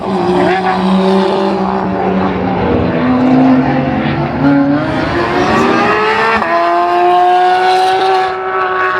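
Time-attack race cars speed around the Circuit of the Americas track, loud engines rising and falling in pitch as they pass at high speed, with brief speech under the noise.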